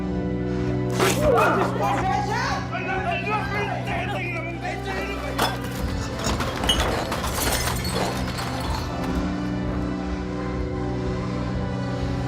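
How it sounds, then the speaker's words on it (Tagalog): Glass shatters with a sharp crash and tinkling shards amid a scene of shouting voices and crowd chatter, with a second breaking burst later, all under lively talk. "Betchay, bayaran mo yung mga nabasag mo, ha?"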